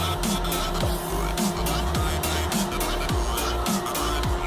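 Car in GTA V racing at speed, engine droning loudly and steadily with repeated tire squeals and skids, the engine pitch rising and falling through several quick gear-like sweeps.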